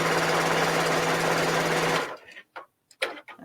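Sewing machine stitching quilting fabric at a 4.0 tension and 2.5 stitch length, a loud steady whirring run of close rapid stitches that stops abruptly, followed by a few quiet clicks and handling noises.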